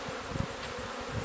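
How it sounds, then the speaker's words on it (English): Bees humming at an open beehive with the brood chamber on top, ready for winter treatment, a faint, steady buzz with soft low bumps, brief and without talk. "here we got the bees, brood chamber up at the top, and we're ready to treat"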